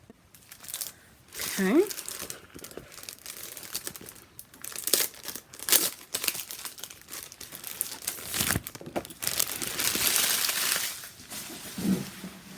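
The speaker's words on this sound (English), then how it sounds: "Sorry for all the rustling." Paper being crumpled and shuffled while a craft room is reorganized, bursts of close crinkling and tearing-like rustles on and off, with a brief spoken word in between.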